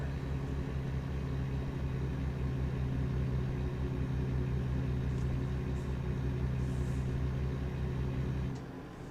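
Steady engine drone of a car in a racing video game driven with a Logitech G29 wheel, a constant low hum that holds evenly for several seconds and then drops away near the end, with no talking.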